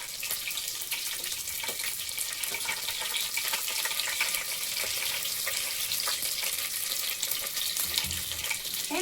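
Onion, green chillies and bay leaf fried with cloves and cinnamon for bagara rice, a loud, dense, continuous crackling sizzle close by, steady throughout with faint stirring scrapes.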